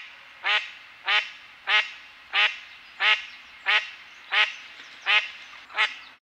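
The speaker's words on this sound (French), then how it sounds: "à savoir le canard colvert." A mallard duck quacks nine times in a slow, evenly spaced series, each call loud, close and nasal, with quiet pauses between and no other sounds.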